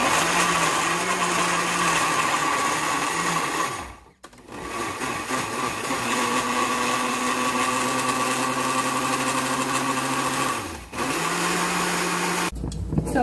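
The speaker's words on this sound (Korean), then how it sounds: "저는 그냥 간단하게 편하게 믹서기에 이렇게 썰어서 놓고 갈아서 올게요" A kitchen blender grinds sliced potatoes in two long, loud, steady bursts with a brief pause between them, followed by a short final stop.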